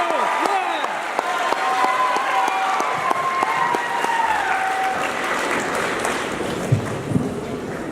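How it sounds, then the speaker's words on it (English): Audience applause at a model UN opening ceremony, sustained clapping from a large indoor crowd filling the whole stretch, steady and dense with a few scattered cheers. "Can I have a round of applause for Lucas?"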